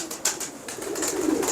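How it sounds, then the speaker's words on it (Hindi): Z.A. Khan pigeons coo nearby in a few soft, repeated throaty calls, clear and close with no talk over them. "ये क्या कबूतर है?"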